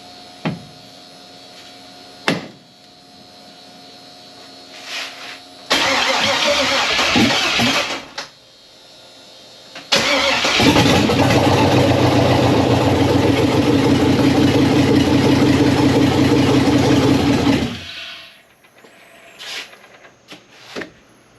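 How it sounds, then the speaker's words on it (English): A Jeep Wrangler fitted with an LS V8 engine cranks, catches briefly, then fires up and settles into a loud, steady idle for several seconds before shutting off, with a few clicks around it. "Started up, started idling."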